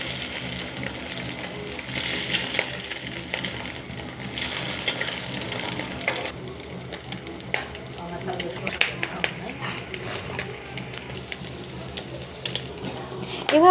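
Potato and egg omelette frying in a pan, cut in two and flipped, with a steady close sizzle and clinking, scraping utensil sounds, heavier in the second half.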